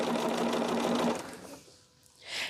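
A sewing machine stitching quilt pieces runs in a fast, steady whir for about a second, then stops, leaving a quiet pause and a brief soft rustle near the end.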